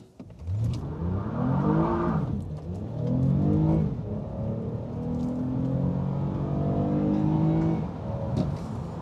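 An eighth-generation Toyota Camry V6 in sport mode with traction control off launches hard with wheelspin, its engine note sweeping upward through several rising pulls, loud and sustained.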